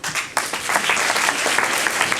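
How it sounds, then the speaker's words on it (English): Audience applause at a university budget event in Mallareddy, a dense steady clapping from a crowd that swells quickly after a brief lull and continues loudly throughout. "So let us give a big round of applause for them."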